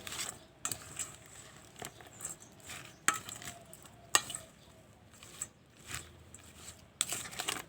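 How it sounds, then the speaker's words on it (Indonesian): Sliced onion is stirred into a batter mixture for fritters, making soft, intermittent wet scraping and clinking strokes up close against the bowl, quiet with distinct sharper taps between them. "Kemudian kita aduk-aduk biar rata."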